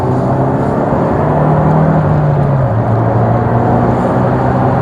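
Rover 820 Vitesse engine pulling in second gear around a bend, a loud close drone whose pitch rises smoothly, then dips briefly as it settles and keeps climbing, with steady road roar underneath.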